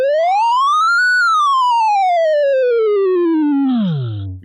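A Theremini synth sounds a steady triangle-wave tone, sliding up then gradually gliding down in pitch before dropping low at the end, loud and alone.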